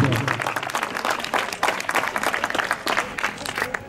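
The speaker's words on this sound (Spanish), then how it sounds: "Un aplauso para ellas, claro que sí." Lively applause with some distinct individual claps for a girls' team at a school pétanque awards ceremony, fairly close and bright, with a few voices mixed in.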